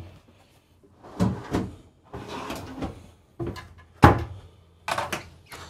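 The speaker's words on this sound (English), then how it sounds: "full extension drawer glides" Drawers on full extension glides in the bathroom of a 2023 Newmar Dutch Star 4325 motorhome slide open and shut several times, with rolling swishes ending in firm thunks close by.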